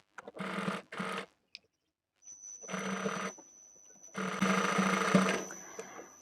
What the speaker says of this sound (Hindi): सारा कपड़ा अच्छे से पीछे की तरफ फोल्ड करते हुए सिलाई चलाएंगे, बिल्कुल पहले वाली सिलाई के ऊपर ऊपर ही